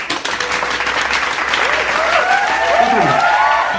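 Loud crowd applause rolls on continuously behind a Korean host on an idol-quiz show, a steady dense clapping texture with his talking and laughter layered on top.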